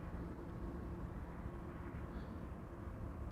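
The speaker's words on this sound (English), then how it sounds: "both GE90s of the Emirates Sky Cargo are spinning" Two GE90 turbofans on an Emirates SkyCargo freighter at Amsterdam Schiphol run at a steady idle, giving a continuous, fairly distant low roar and rumble that holds even throughout, with no talk over it.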